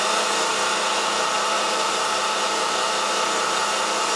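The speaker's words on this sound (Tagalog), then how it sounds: "Testingin po natin ang order po ninyo na pelletizer machine." A pelletizer machine runs steadily in a test, producing pellets, with a loud, even mechanical whir and hiss held throughout without any pause.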